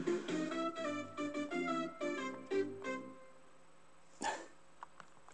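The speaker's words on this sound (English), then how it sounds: "Sounds like they're barking" Chiptune-style dog barks from the Wonder Boy video game come in a quick run of clipped bursts, followed by a few sparse game blips, quiet and without talk.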